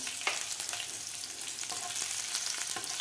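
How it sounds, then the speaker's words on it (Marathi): Four finely chopped green chilies frying in hot oil in a pan after peanuts were removed, a steady dense sizzle with a few faint stirring clicks, close and continuous with no voices. "मिरची सुद्धा व्यवस्थित आपल्याला तळून घ्यायची आहे"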